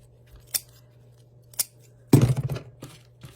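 Scissors snip the ends of a ribbon bow, with two crisp single clicks followed by a quick burst of rapid cutting strokes, close and clear against a faint low hum.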